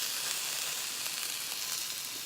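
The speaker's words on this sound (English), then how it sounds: "Sizzles, turns over like a burger." A Don Lee Farms vegan burger sizzles steadily in a frying pan, a constant close hiss with no talking.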